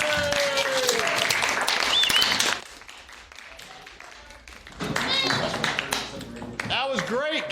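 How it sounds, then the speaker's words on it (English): A classroom of people claps briefly, a short burst of scattered hand claps, followed by a quieter stretch and then a teacher talking energetically over the room. "All right, everybody give a round of applause."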